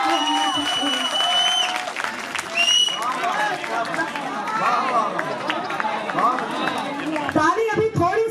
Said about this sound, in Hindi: ताली अभी थोड़ी सी कम है,